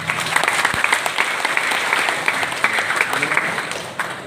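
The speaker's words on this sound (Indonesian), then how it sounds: "Aplaus untuk semua." Steady applause from an audience at a ceremony launching a waqf campaign for a mosque dome, a continuous crowd clapping filling the room for several seconds.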